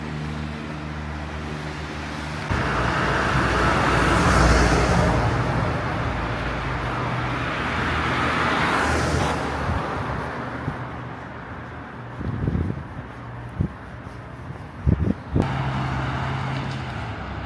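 Highway traffic at Awaji Interchange in Japan rushes past as a broad roadway roar with passing-vehicle swells, then a few sharp knocks and thumps near the end before the steady hum resumes.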